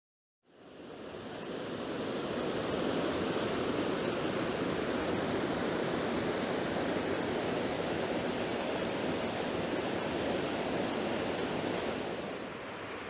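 Water rushing steadily at Sharrah Pool on the River Dart in Dartmoor woodland, a constant broadband roar that fades in at the start and holds evenly throughout with no voices.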